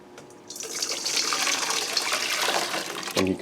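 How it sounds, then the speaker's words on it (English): Hot water pours into a bowl for soaking and degreasing over-the-range microwave filters, a steady rushing splash starting after a brief pause and continuing loud and close, ending with a clunk. "So go ahead and add the water"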